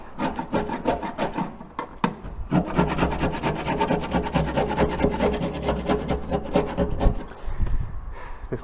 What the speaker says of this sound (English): I'm going to scrape as much of it off as I can with the chisel